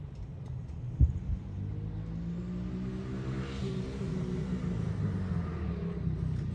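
A 125cc four-wheeler's small engine idles and revs nearby with a steady low rumble and a rising whine, a sharp knock near the start.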